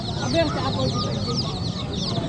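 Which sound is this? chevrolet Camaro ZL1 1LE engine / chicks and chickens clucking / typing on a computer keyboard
chicks and chickens clucking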